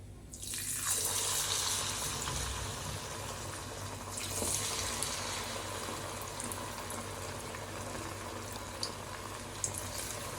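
A piece of marinated chicken kebab dropped into hot boiling oil, giving a steady loud sizzle and bubbling hiss that starts abruptly and continues throughout, close up with no talking.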